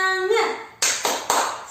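Children clap a rhythmic spirit chant in a lesson, tepuk semangat style: a sung voice leads into three sharp, evenly spaced claps.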